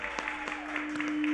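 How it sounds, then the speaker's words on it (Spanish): A studio audience at a Houston talk show claps in a short burst of scattered, moderately close handclaps, with a faint steady hum underneath. "Un aplauso para él, ¿sí?"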